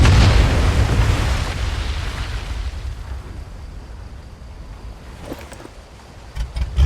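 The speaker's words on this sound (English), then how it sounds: "That explosion got the attention of all the German patrols in the area." A heavy video game explosion in Medal of Honor: Above and Beyond opens with a boom, its deep rumble slowly decaying over several seconds, followed by faint clicks and rustles.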